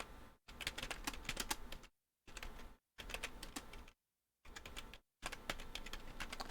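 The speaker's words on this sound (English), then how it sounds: "I typed on the wrong keyboard again." Bursts of rapid key clatter on a computer keyboard in a home recording setup with two PCs, several quick typing runs separated by brief silences, close and fairly quiet, no voices.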